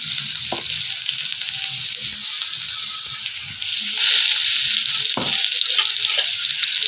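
A paste of green chili and garlic goes into a hot pan and fries with a loud, continuous sizzle and hiss, broken by a few brief clatters.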